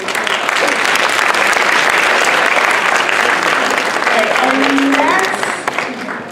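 A crowd at an education assembly applauds loudly for several seconds, dense clapping that holds steady and then starts to fade near the end.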